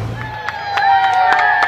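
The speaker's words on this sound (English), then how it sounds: "it's amazing with all the people shouting" A roadside crowd greets the Olympic torch relay in Wales with high cheers, shouts and whoops rising over a steady babble, loud and close.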